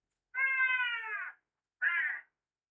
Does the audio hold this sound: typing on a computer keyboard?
no